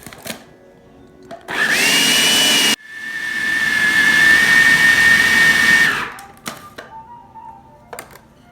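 Food processor pulsing keto sugar cookie dough: two loud motor bursts, a short roaring pulse followed by a longer whining run that winds down, with faint kitchen clatter around them.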